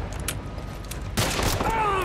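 Gunfire in The Last of Us Part I: a dense burst of shots erupts partway through and keeps going, loud and close, over a steady game background.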